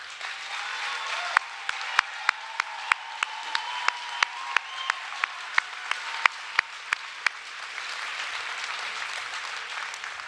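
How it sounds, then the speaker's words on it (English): A room applauds partner institutions' senior leaders at a Say Yes to Education announcement in Cleveland, with steady moderate clapping and a few sharp, close individual claps standing out before the applause thins toward the end. "please join me in a round of applause thanking them"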